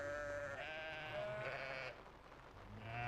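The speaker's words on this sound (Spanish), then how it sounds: "Brota la vida y se suceden los balidos entre la manada." A flock of migrating sheep on a seasonal drive fills the air with close, nasal bleats that overlap and quaver, pause for a moment, then start again over a soft, low background rumble.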